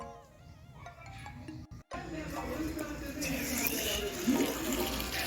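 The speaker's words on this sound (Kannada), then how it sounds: "ಅಕ್ಕಿ ತೊಳೆದ ನೀರನ್ನು ನಾನು ವೇಸ್ಟ್ ಮಾಡಲ್ಲ ರೀ ಡೈಲಿ ಗಿಡಕ್ಕೆ ಹಾಕ್ತೀನಿ" Rice-washing water is poured onto potted plants at home, giving a steady, moderately loud splashing and trickling that runs continuously through most of the stretch after a brief pause.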